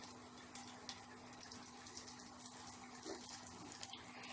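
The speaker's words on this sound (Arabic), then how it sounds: "هبتدي بقى احط انا دلوقتي ميه سخنه اهو في الصينيه بتاعتي" Hot water poured into a baking tray while making homemade yogurt, a faint, steady watery rush with a low hum underneath and small splashy accents.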